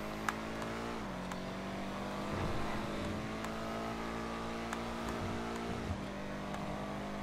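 Benefactor Schlagen GT sports car in GTA Online driving, a steady engine drone with harmonic bands holding fairly level and shifting pitch around gear changes, continuous and moderately loud with no talk.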